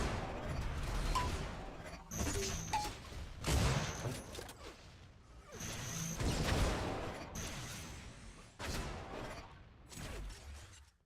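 Rocket launcher blasts and flak cannon bursts ring out in an Unreal Tournament 4 duel, a series of booming shots and whooshing projectiles in irregular clusters, with a commentator talking throughout.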